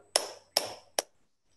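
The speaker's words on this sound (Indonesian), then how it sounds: "Kalau saya bilang venture, tepuk tangannya 2 kali." Webinar audience clapping in unison on cue, three sharp bursts of applause about half a second apart, with no talking over them.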